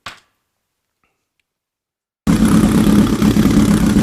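An old 'basket case' motorcycle engine after restoration, silent at first, then catching abruptly and running with a loud, close, steady idle until the end.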